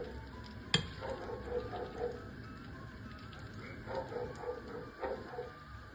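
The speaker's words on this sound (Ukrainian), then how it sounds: "Смажимо їх з обох сторін до золотистого кольору." Potato pancakes (tertiukhy) fry in heated oil in a pan, giving a quiet, steady sizzle, with a single sharp clatter near the start.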